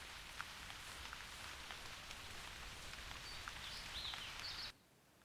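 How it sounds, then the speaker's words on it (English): Steady, dense rain falls in the hunting game theHunter Classic, a continuous hiss of drops with faint bird calls above it, then cuts off sharply near the end. "if the rain is so loud, I'll have to turn this down"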